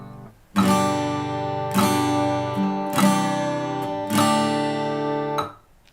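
Guitar chord changes strummed in time with a metronome by a beginner: four sustained ringing strums, each held over a second before the next chord, fairly loud and close, with no voices.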